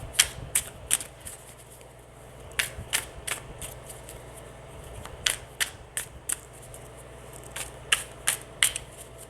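Tarot cards are shuffled and handled in a quiet room, giving scattered crisp snaps and riffles in irregular bursts, close and fairly soft.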